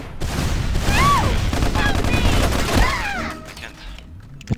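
Rapid gunfire crackles through a Counter-Strike match, with dense overlapping shots and bursts that thin out toward the end, loud and close, while players call out over voice chat.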